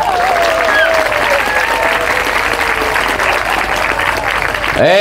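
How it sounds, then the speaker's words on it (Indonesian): Loud, dense applause from a crowd at an Indonesian Islamic sermon honoring pesantren students, sustained throughout with scattered cheering voices riding over the clapping. "Tepuk tangan untuk santri."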